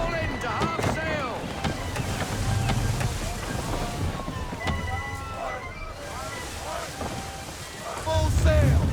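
Wind rushes and water churns around a sailing ship at sea in Assassin's Creed III, loud and continuous. Creaking rigging and faint calls sound over it, and it swells near the end.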